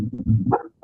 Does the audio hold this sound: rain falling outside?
no